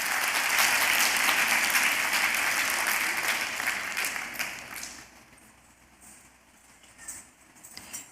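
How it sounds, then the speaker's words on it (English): An audience at an arangetram dance recital claps in a loud, dense round of applause that gradually fades out, leaving only a few scattered claps near the end. "Let's give him one more round of applause."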